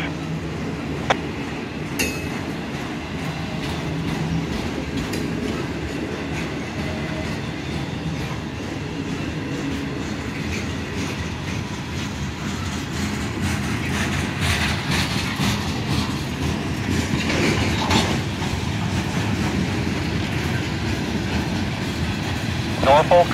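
A Norfolk Southern freight train led by SD60E, C40-9W and SD70AH locomotives rolls past with a continuous rumble and clattering wheels, steady and fairly near, with occasional higher squeals and clanks throughout.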